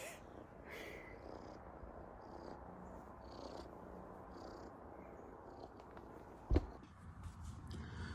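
A rescued wild cat purrs softly and steadily near the microphone outdoors, a low continuous rumble over faint background noise, interrupted once by a sharp brief knock.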